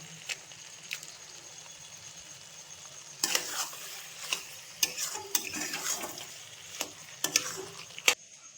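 Meat ghugni stirred in a pan as boiled peas and potatoes go in, giving a soft sizzle with scattered scraping and spoon clicks. It is close and moderate in level, and it gets busier partway through.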